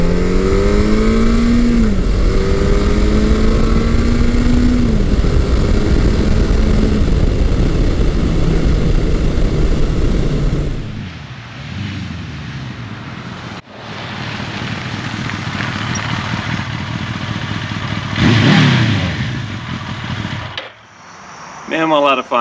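Classic big-bore motorcycles, a Yamaha FJ1200 and a Suzuki GS1100E, ride along with a loud engine drone and rising and falling revs. The engine fades in the second half, then briefly surges again.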